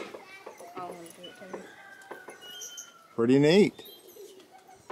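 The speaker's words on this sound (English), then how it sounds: "I do hear, seems like the chickens and the sheep are starting to make a little bit of noise" Chickens and other birds calling outdoors on a farm, with soft coos and a loud burst of calling near the end, under intermittent speech.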